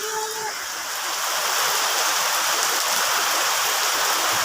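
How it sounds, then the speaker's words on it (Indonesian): Heavy rain pours down steadily on a remote village in Trenggalek, a dense, loud, even hiss of downpour with a brief voice at the very start. "Yang namanya hujan ya, dan deras pol."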